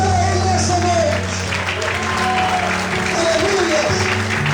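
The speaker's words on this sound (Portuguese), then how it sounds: "Vamos aplaudir ao Senhor e exaltar a Ele nessa noite." A church congregation applauds during an evening worship service, dense continuous clapping from many hands filling the room, with a voice and sustained music-like tones running underneath.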